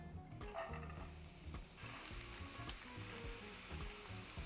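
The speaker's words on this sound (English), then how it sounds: "we'll just saute this in olive oil until softened and translucent" Onion, celery and carrot sauté in olive oil as a sofrito base, giving a steady close sizzle with scraping stirs and a few sharp utensil knocks throughout.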